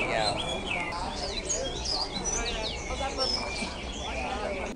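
Small birds at a Hong Kong bird market chirping and tweeting, many overlapping high calls over a busy background murmur, with voices talking nearby.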